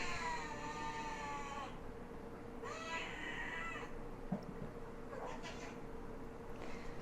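A cat meows repeatedly, long insistent yowls separated by pauses over a steady background hum, moderately close.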